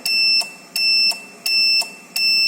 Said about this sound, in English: you can just hear the buzzer.